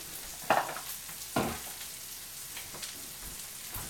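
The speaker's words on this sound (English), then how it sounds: "we might get a little bit of a sizzle here because there's still a little bit of water on these" Bok choy, still wet from washing, hitting a hot skillet and stirred, giving a few short sizzling bursts over a low steady frying hiss, close by with no talk.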